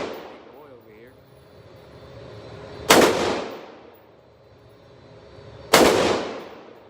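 Two loud gunshots at an outdoor shooting range, spaced about three seconds apart, each a sharp crack with a ringing decay, over a low background murmur and faint voices.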